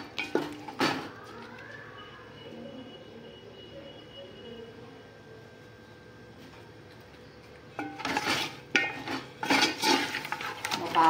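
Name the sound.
stirring chicken with masala spices in a pot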